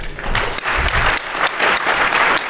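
A conference audience applauds loudly after a security talk, dense continuous clapping that fills the short stretch with no speech over it.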